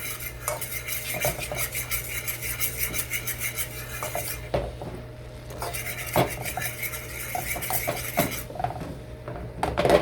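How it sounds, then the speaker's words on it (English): Cauliflower dish being stirred by hand in a bowl, a steady scraping and rubbing of utensil against the bowl with light clinks, close and continuous over a low background hum. "I'm gonna mix it up"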